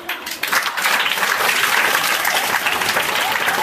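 A classroom of students breaks into loud, dense clapping that begins sharply and then holds steady, close and continuous, with some voices mixed in.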